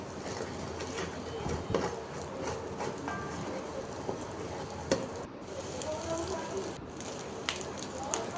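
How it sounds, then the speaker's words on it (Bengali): An egg fries in a pan with onion and green chili, giving a steady, moderate sizzling hiss broken by a few soft clinks and stirring knocks. "ডিমটা ভেজে নিব।"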